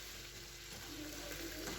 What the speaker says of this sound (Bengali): আমার কচুরি, মটরশুঁটির কচুরি ভাজা হয়ে গেছে।